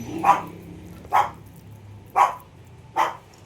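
Choco, a pet dog, barks four times at spaced, irregular intervals, sharp and moderately distant, against a quiet background.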